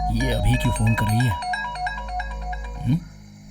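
A mobile phone ringtone signals an incoming call in a Hindi-dubbed film scene. The sustained melodic ring plays clearly from start to finish, with a steady tone over a low background hum and no one speaking over it.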